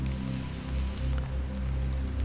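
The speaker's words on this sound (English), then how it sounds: "Repair spray. Use." A can of repair spray hisses in Hollowbody, a loud steady aerosol spray lasting about a second, then cutting off to leave a low droning background hum.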